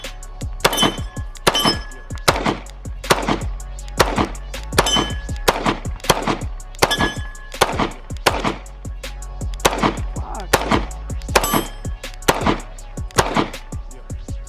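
A .45 pistol fitted with a Radian Ramjet slide fired in a steady string of roughly fifteen loud, sharp gunshots, each with a brief metallic ring, evenly spaced and close, with no talking.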